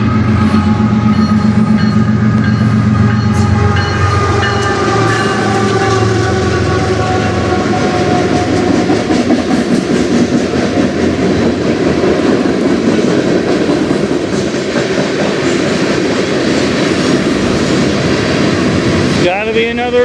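A CN freight train rolls past close and loud, its last cars loaded with pipe, making a steady rumble and clatter of wheels that barely changes for the whole pass, with a squeal near the end.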